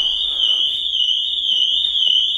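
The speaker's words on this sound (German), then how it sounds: "Vordere Tür. Voller Alarm." A car alarm sounds right after the front door is opened: a loud, steady high-pitched electronic tone with a slight warble, continuous and alone throughout.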